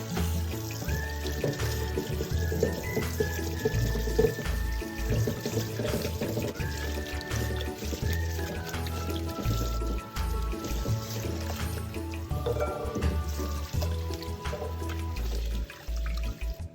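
Chicken feet being rinsed under a running tap, water splashing steadily into a sink with occasional clatter, continuous and close throughout.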